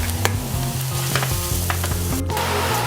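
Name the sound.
mushrooms with dried celery flakes sautéing in a pan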